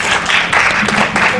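Brief burst of audience applause at a DXN sharing talk in Malaysia: a dense, even patter of many hands clapping together for just over a second.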